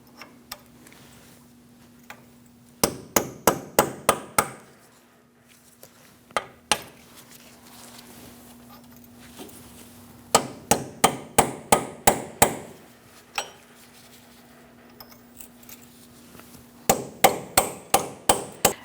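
Hammer striking a punch to unpeen the axle nut on a Chevrolet Sonic, sharp metallic blows in three fast volleys separated by pauses over a faint steady hum.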